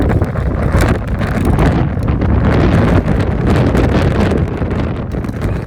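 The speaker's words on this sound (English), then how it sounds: "That was a gust." A strong gust of desert wind buffets the microphone in the Rhyolite ghost town near Death Valley, Nevada, a loud, continuous rumbling roar that swells and eases over several seconds.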